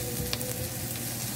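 Garlic and ginger fry with onions in a pan, giving a steady, close sizzle with faint stirring and no voices.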